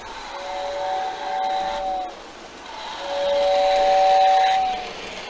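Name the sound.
model train tender steam whistle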